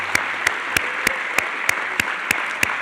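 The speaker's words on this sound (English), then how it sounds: "Another round of applause for all of our speakers." An audience applauds at the end of a public astronomy event, a continuous even layer of clapping with a few louder nearby claps popping out at regular intervals.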